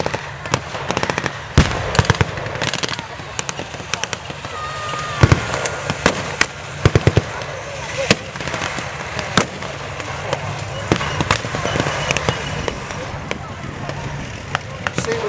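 Sharp gunfire bangs crack repeatedly through a battle re-enactment, including a German 88 artillery gun firing, with irregular loud reports spread across the scene and voices heard faintly among them.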